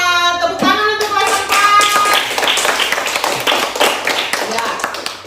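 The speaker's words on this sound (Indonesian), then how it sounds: "Tepuk tangan untuk kelas" A fourth-grade class claps together in a schoolroom, a burst of dense, fairly loud applause that follows brief singing-like tones and keeps going steadily for several seconds, with voices mixed in.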